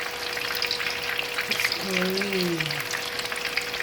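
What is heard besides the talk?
frying dynamite peppers with cheese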